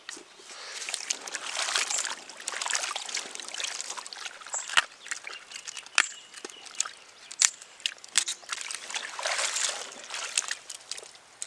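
Cauliflower being rinsed and swished in water at an outdoor village cooking setup, with continuous splashing, trickling and sloshing plus a few sharp knocks, moderately loud and without talk.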